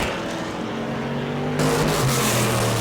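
An A-Mod race car roars past at Auburndale dirt track as it takes the checkered flag, engine loud and close, its pitch rising as it draws near and surging louder in the final second.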